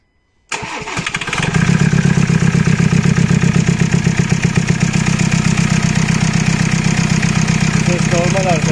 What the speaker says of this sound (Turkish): Şimdi ilk bir marş yapacağız.